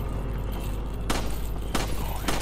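Gunfire in Resident Evil 4, cracking like firecrackers: three sharp, loud bursts spaced about half a second apart over a steady low rumble.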